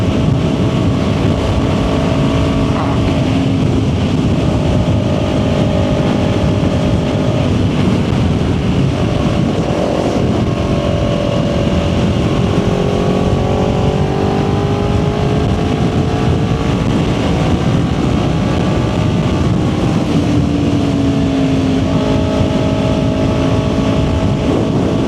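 A Kawasaki Ninja 400 motorcycle cruising on an interstate highway, its engine a loud, steady drone under heavy wind rush, with pitch shifting up and down as the revs change.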